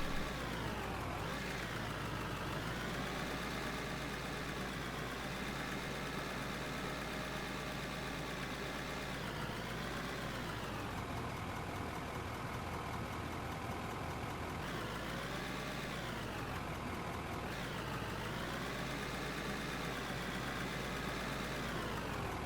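A truck engine idles in the mining game Out of Ore, a steady mid-range rumble that swells and dips a few times as it revs slightly, with no talk over it.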